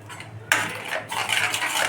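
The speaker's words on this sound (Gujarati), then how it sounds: "હવે આપણે આમાં ટામેટાની પ્યોરી ઉમેરી દેવાની છે" Tomato puree is added to a pot of dal makhani, with close metallic scraping and clinking of a spoon against the pot in two brief bursts, a wet splash among them.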